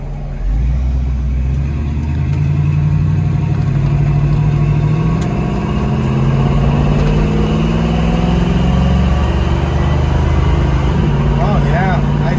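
A 1967 Chevrolet Camaro SS convertible pulls away on the road, its engine droning loud and steady as it climbs through the gears, with a continuous low rumble and road noise throughout.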